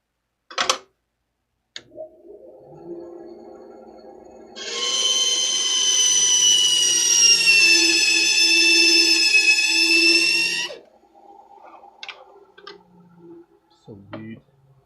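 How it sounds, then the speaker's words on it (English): Bandsaw cutting a pen blank, a loud high whining blade tone that runs for about six seconds, with quieter handling clicks and knocks before and after. "So I need to go cut this with the bandsaw."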